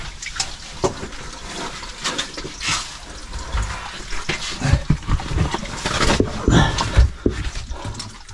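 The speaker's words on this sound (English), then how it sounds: "Looks like the water dives underneath the big choke of boulders." Cave stream water rushing and gurgling as it disappears beneath a choke of big boulders, a loud, close, churning flow with irregular splashing surges and no voices.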